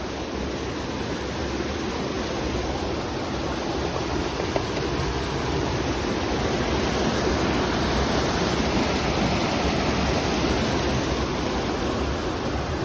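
A campground creek rushes in a dense, constant wash of water, loud and close, with no voices.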